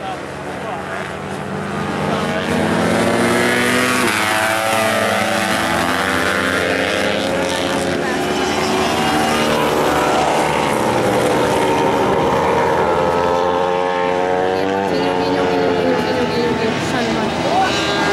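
Racing motorcycles ride through a series of corners, a loud engine whine that rises and falls with each bend and gear change, with a commentator talking excitedly over it.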